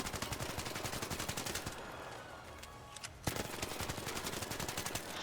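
The level 4 Stitcher in the Arc Raiders video game fires rapid, evenly spaced automatic shots, pauses briefly for a reload, then resumes a fast burst of close, loud gunfire.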